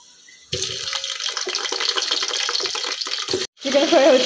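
Chicken pieces dropped into hot frying oil for a biryani, a sudden loud sizzling hiss that holds steady for about three seconds, briefly stops, then resumes with clinks from the pan.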